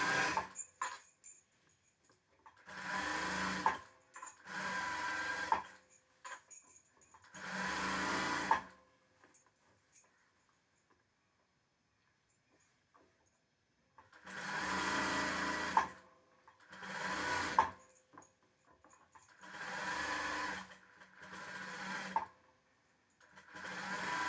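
A sewing machine stitches a blouse in short, fairly quiet bursts, several runs of one to two seconds each separated by silent pauses and a longer gap midway.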